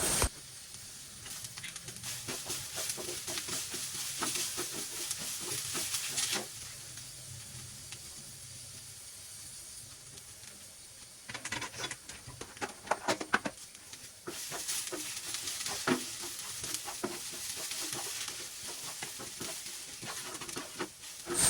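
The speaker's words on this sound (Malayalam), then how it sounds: "കറിവേപ്പിൻ്റെ ഇല ഇട്ടിട്ട് പിന്നെ നമ്മുടെ ഉള്ളി ചെറുള്ളി ചെറുള്ളിയും കൂടി ഇട്ടിട്ട് നന്നായിട്ട് സംഭവം വറുത്തെടുക്കണം" Curry leaves and shallots frying in a pan give a steady hissing sizzle that swells loudly in stretches and drops back between, close by with faint stirring.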